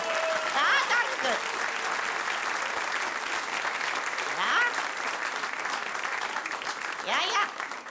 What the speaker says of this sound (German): Sie dürfen hier klatschen, ja, denn wenn Sie das noch nicht wussten, Applaus ist ja das Brot des Künstlers.